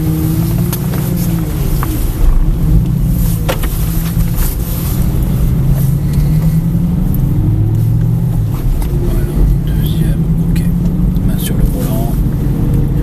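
Car engine pulling away in first gear on flat ground, a steady low drone rising gently in pitch, close and continuous with voices talking over it.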